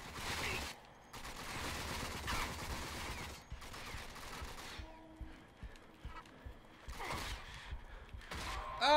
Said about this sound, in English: This is a good time to try out my assault rifle.